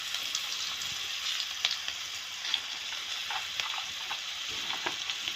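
Ingredients for an Assamese fish curry, including ginger, garlic and spices, sizzle steadily in a hot pan with occasional stirring clicks and scrapes, alone and with no talking.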